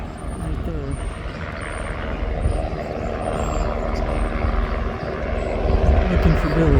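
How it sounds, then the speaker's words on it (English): A helicopter flies over Venice Beach, California, giving a broad, rumbling rotor drone that swells slightly louder as it passes, with people talking outdoors underneath. "There's a helicopter"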